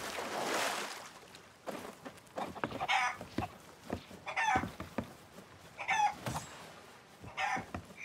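Chicken clucking and squawking in the pirate adventure game Sea of Thieves, a rapid series of sharp, close clucks and short cackling bursts over several seconds, standing alone without talk.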